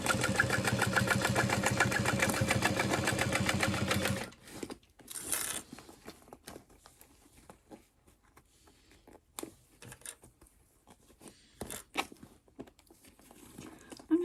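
A sewing machine stitches a backpack for about four seconds in a steady, fast run of needle strokes. Then it stops and leaves quiet handling noises, with faint rustling and a few light clicks.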